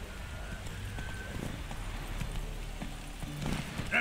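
Roach the horse in The Witcher 3 trots at a steady pace, and the clip-clop of the hooves sounds soft and muffled over faint ambient background noise.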